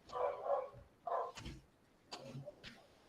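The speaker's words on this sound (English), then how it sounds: "Oh my God, dogs decided to fight right now." Dogs scuffling and barking in the background, with a few short barks and yips scattered through a few seconds at moderate distance, with no talk over them.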